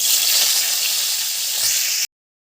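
Whole dried chilli, cumin seeds, cinnamon, cracked cardamom and bay leaf sizzle in hot oil, giving a loud, steady, close frying hiss that cuts off abruptly after about two seconds.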